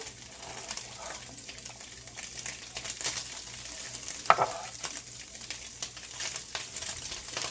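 Onions and garlic fry in a pan for a low-carb cabbage roll casserole, giving a steady close sizzle across the whole stretch, with a few brief scrapes and one sharp clink near the middle. No one speaks.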